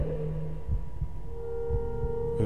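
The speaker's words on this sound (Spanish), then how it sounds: "Oigo como un latido, además." Heartbeat in the horror video game Little Nightmares, a soft low thudding pulse repeating at a steady pace beneath an ambient hum and tonal drone.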